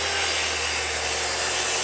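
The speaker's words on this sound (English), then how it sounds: "run it through the table saw again" A table saw rips white oak plywood, a steady, loud whirring cut with constant broadband noise and a low motor hum throughout, no voices.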